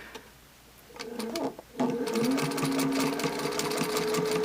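An antique straight-stitch sewing machine sews binding around quilt corners, a rapid mechanical stitching rattle that starts briefly, pauses, then runs steadily, up close.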